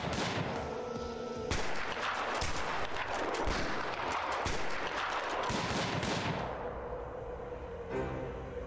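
Dense gunfire from a Prison Architect game fight: sustained, loud rapid shots and crackling bursts throughout, easing toward the end.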